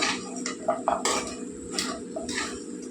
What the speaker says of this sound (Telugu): ఇది బాగా మసాలా పట్టేలాగా మనం కలుపుకుందాం